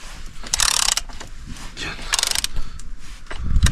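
Ratchet wrench with a 34 mm socket loosening a nut on an adventure trail motorcycle, giving bursts of quick metallic clicking and rasping, close and fairly loud, with short pauses between strokes.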